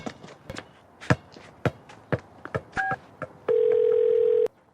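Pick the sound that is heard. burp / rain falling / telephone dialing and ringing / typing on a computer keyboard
telephone dialing and ringing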